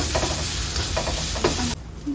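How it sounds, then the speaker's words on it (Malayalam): Crushed ginger and garlic sizzle in a hot pan as a spoon stirs them with a few scraping strokes, then the frying noise cuts off abruptly near the end. "ഇഞ്ചി വെളുത്തുള്ളി ചതച്ചതാണ് കേട്ടോ. നന്നായിട്ട് ഇളക്കാം."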